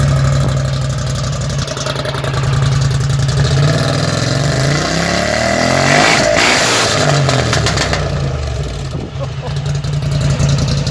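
A Scrambler 1000 motorcycle engine with a modified exhaust runs loud and close, with a deep throaty idle that rises into revs and falls back over several seconds.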